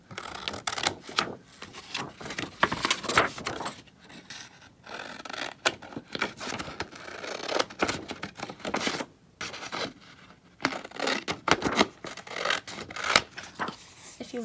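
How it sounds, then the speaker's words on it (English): Scissors cut small squares out of paper in a papercraft bookmark project. The snips come in short, irregular bursts of crisp clipping and rustling, close by, with a person talking at times. "And then just take your scissors and cut out a little square."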